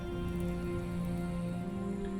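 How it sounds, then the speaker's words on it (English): Steady rain falls in the RimWorld video game, a continuous even patter with a soft background hum and no voices. "And if it could just not rain for a minute, that'd be like super awesome, I think."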